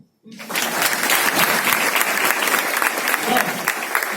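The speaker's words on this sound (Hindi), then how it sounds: "ताली बजाओ।" Crowd at a distributor training event in Thane bursting into loud applause after a brief pause, sustained dense clapping with scattered voices mixed in.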